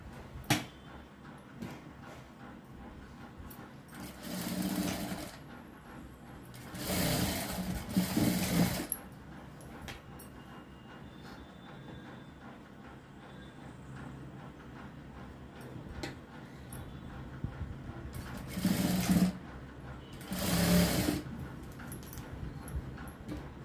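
A sewing machine stitches the shoulder seams of a blouse in four short, close whirring runs, two early and two late, separated by quiet pauses with faint handling noises.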